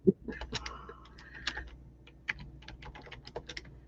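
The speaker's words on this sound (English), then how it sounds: "You started typing." Rapid, uneven typing on a computer keyboard, a close run of clicky keystrokes in bursts with brief pauses, heard alone with no talking.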